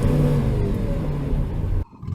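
A Lamborghini Aventador SV's engine revs in a loud, steady, tonal drone that cuts off sharply near the end, leaving a brief quieter rumble.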